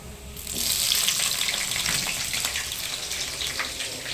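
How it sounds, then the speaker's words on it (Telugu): Cumin seeds and green chillies sizzling in hot oil in a pan, a loud, continuous hiss that flares up after a brief moment and holds steady. "ఒక జీలకర్ర వేస్తున్నా పోపు వేస్తున్నా పచ్చిమిర్చి వేస్తున్నా"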